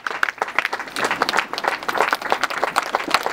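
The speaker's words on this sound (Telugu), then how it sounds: "వారికి స్వాగతంగా చప్పట్లతో ఆహ్వానిద్దాం అందరం కలిసి" An audience claps in welcome as a DSP arrives for a pyramid inauguration at a one-year celebration in Kalwakurthy, a steady burst of applause filling the room.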